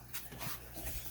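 Dogs lapping and licking the inside of a crock pot after homemade dog food was cooked in it, soft close wet licking and faint whimpers over a steady background hum.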